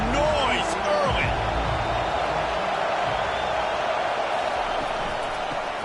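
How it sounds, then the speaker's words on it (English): A stadium crowd at a football game roars in a broad, sustained wash of noise, loud and steady throughout, with a broadcast commentator's voice heard over it at the start. "This crowd bringing the energy and noise early."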